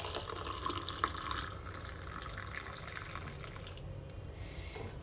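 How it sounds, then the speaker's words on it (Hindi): Tap water running steadily into triphala powder in a cup or bowl, a continuous close splashing pour with a few small drips, heard alone without talk. "और अभी मैं इसके अंदर पानी ऐड करूंगी।"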